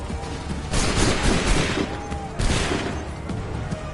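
Dense gunfire volley in the Star Wars Outlaws video game, loud bursts of overlapping shots in two main waves over a constant battle din.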